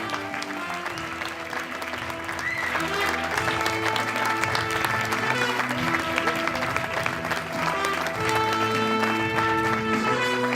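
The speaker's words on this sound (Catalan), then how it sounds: "Un bon aplaudiment, sisplau!" Audience applause at a Catalan poetry recital, a steady wash of clapping that swells after the first couple of seconds and runs over prominent background music.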